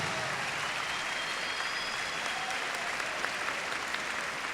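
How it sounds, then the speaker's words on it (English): A large outdoor crowd at a hula festival in Hilo, Hawaii applauds steadily, a continuous wash of clapping with no talk over it. "how about a nice round of applause for the people of Hilo, the people of Hawaii Island"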